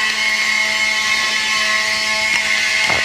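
A 4.5 inch angle grinder fitted with a buffing disc runs steadily at full speed, giving a loud, constant high-pitched whine with a faint knock near the end.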